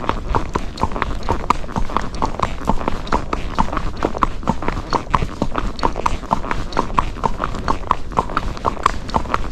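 Rocky Mountain gaited horse moving in an even four-beat gait, its hoofbeats clopping in a steady rapid rhythm throughout, close and clear.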